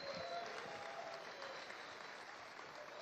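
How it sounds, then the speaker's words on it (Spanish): Large crowd applauding oil workers at a Venezuelan commemoration of the 2002 oil sabotage, a broad, even, continuous wash of clapping that sounds distant and steady. "Un aplauso para todas y todos ellos."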